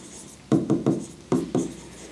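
Chalk or marker strokes scratch across a board in about five short, distinct bursts, close and moderately loud against a quiet room.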